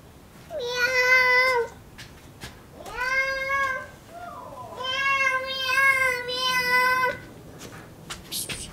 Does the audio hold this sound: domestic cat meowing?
yes